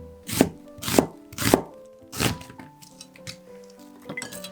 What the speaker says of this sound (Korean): 양파는 채 썰어 주시면 돼요